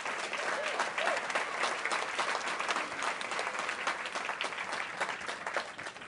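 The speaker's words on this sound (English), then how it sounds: "One more round of applause for our honorees, Jim McCann, Doug Wood, representing the Ford Foundation, and Mariska Hargitay." Sustained applause from a gala audience honoring Jim McCann, Doug Wood of the Ford Foundation and Mariska Hargitay at the John Jay College Educating for Justice gala, steady dense clapping throughout with faint crowd murmur.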